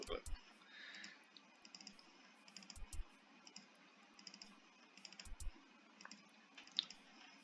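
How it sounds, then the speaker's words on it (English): A computer mouse is clicked while an EVE Online planet is set up, giving quick single and double clicks in an uneven rhythm, close and crisp, with a voice speaking underneath. "So double click, click, double click, double click, click,"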